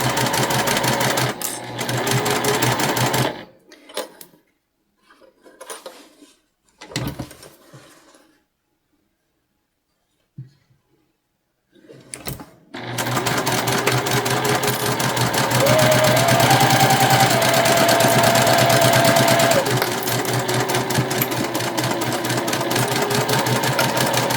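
A sewing machine stitches a seam in a cotton tote bag, running in short bursts with pauses and near silence before settling into a long, steady whirring run, close up.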